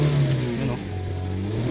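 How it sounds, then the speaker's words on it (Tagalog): The engine of a 2014 Kia Rio with its check engine light on and poor pulling power revs up from idle, a loud close mid-pitched engine note that rises and then settles, with no talking. "so try nating i-rev."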